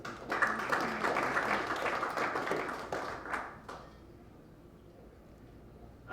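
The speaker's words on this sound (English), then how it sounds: "A big round of applause, please, for Rashad Matic" Applause for a boxer at a boxing press conference, a modest round of clapping from a room of attendees that carries for about three seconds, then thins out and fades to quiet room tone.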